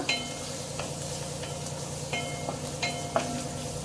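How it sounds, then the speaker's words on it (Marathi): Chopped onion being stirred and sautéed in a pan for medu vada preparation, a steady soft sizzle under repeated scraping stirs, with sharp utensil clicks every half second or so, close by and with no voices. "कांदा परतून घ्यायचा, थोडासा गुलाबी रंग येईपर्यंत"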